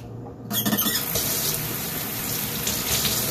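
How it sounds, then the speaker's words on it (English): Water runs steadily from a sink faucet as hands are rinsed underneath, a broad continuous splashing hiss that starts abruptly and stays fairly loud, with no talking. "I'll turn on the sink, rinse my hands under there"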